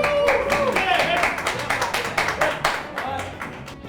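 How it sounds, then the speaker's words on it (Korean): A crowd at an arm wrestling match claps for the fighters from Kazakhstan and the USA as the bout is introduced, with rhythmic, fairly close claps under a tonal voice or announcer sound, the clapping thinning toward the end. "박수 한번 주세요"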